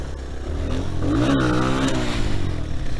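An old 125cc four-stroke motorbike engine revs up close, its pitch climbing then easing back in a loud, continuous rasp with a slight clatter and no talk.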